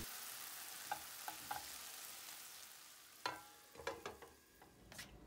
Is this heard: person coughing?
no